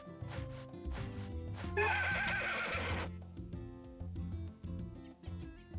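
Horse whinnying in the farming game Story of Seasons: A Wonderful Life, a loud bright neigh in the middle over looping game music with plucky synth tones. No voices are heard.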